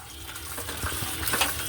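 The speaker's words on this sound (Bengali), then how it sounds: "ওই যে মাছটাকে আমি ধোয়া শুরু করেছি" Tap water runs and splashes as a koi fish is washed in a kitchen sink, a brief, close stream with small sloshing bursts and no voices.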